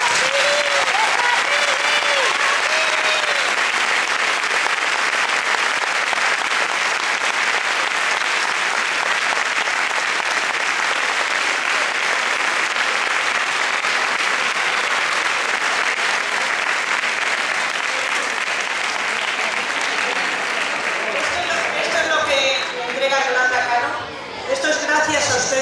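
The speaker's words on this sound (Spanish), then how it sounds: "este aplauso va por ustedes." Sustained audience applause at a dance school's charity gala finale, dense clapping and cheers filling the hall for over twenty seconds before tapering off as voices emerge near the end.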